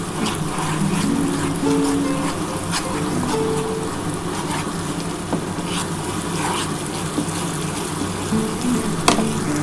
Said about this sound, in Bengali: এবার এটা ভালো করে কিন্তু আমি মশলাটা কষিয়ে নেব।